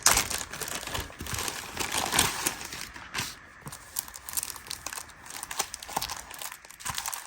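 Crafting paper is unwrapped and handled up close, with continuous crinkling and rustling, sharp crackles and soft taps coming in irregular bursts for several seconds, and no voices.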